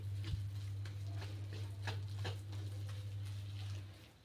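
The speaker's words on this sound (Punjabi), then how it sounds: "ਆਪਾਂ ਇਸ ਤਰ੍ਹਾਂ ਹਿਲਾਉਂਦੇ ਰਹਿਣਾ ਹੌਲੀ ਹੌਲੀ" Gram flour mixture for besan barfi being stirred slowly in a pan, giving soft steady scraping and faint sizzling over a constant low hum, with a few light taps against the pan.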